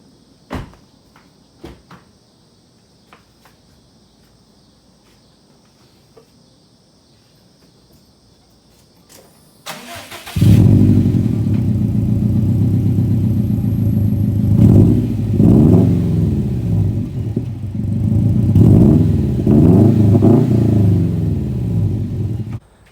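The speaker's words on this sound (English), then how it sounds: "my Remark BOSO axleback has been installed. Let's hear how it sounds fired up" A Subaru WRX STI fitted with a Remark BOSO axleback exhaust sits through a quiet stretch of faint ticks and clicks. The engine then fires up abruptly into a loud, steady, close boxer rumble with several rev swells.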